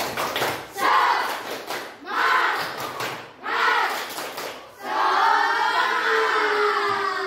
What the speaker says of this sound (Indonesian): Tepuk tangan buat kalian semua dong ya